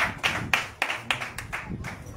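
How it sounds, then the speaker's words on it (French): Church congregation claps for the Lord in steady rhythmic unison, about eight even claps in two seconds, close and clear with no talking. "Acclamons le Seigneur pour la vie"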